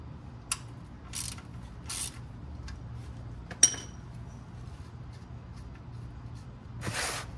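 Ratcheting clicks of a wrench loosening a 14 mm engine oil drain bolt, heard in scattered short bursts over a steady low hum, with one sharp metallic clink near the middle.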